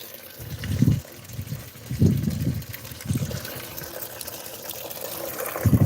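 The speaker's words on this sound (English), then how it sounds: "So I just fill it up with my clean water." Clean water gushing and splashing into a large 300-gallon tank, loud uneven surges over a constant background wash.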